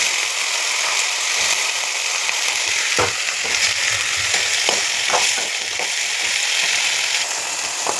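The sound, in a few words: vegetables frying in oil with onions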